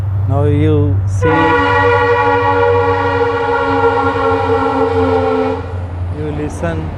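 A train on the railway track running beside a college building gives a loud, sustained horn blast lasting several seconds, with shorter sweeping horn tones just before and after, close and dominant over the rumble.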